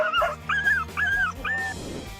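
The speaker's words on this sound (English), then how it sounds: "This dog decided that it was immortal and bit a bull right where you should never bite a bull." A dog yelps in pain after biting a bull, giving four sharp, high rising cries in quick succession at moderate distance, followed by a short rustle.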